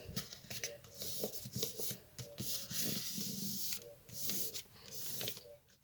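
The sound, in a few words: paper being folded to make a paper handbag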